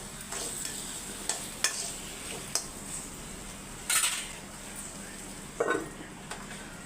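Vermicelli being stirred in a pan while cooking for a home festival meal, with soft scraping and a few sharp metal taps of a spoon against the pan over a faint sizzle, close and quiet.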